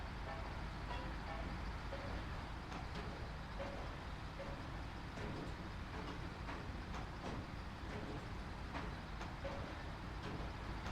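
A truck in the SnowRunner video game drives with a continuous engine drone and loose metal rattling and clanking throughout at a steady, fairly quiet level.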